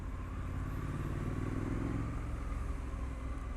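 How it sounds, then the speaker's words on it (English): A 2020 Triumph Street Scrambler 900 motorcycle engine revving while riding, a steady rumbling roar with a slight swell in the middle, heard through wind noise. "I like the way this engine revs"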